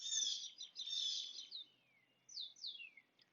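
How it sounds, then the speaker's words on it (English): Birds sing outdoors in clear, high chirps and trilling phrases, fairly faint and distant, with short quiet gaps between calls. "hearing the birds in the background, waking up to this glorious morning"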